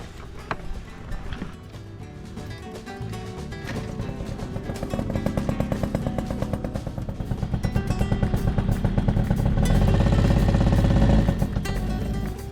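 A moped engine with freshly adjusted airbox and jetting is kicked over and catches, its rough buzzing idle building steadily louder and revving up near the end, close and alone without talk.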